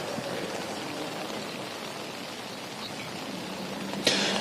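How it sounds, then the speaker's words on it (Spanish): Light rain falls outdoors in the Suba locality, a steady, even hiss filling the whole stretch, with one brief sharper knock near the end and no voices. "Mire, Rafael, llueve levemente acá en la localidad de Suba."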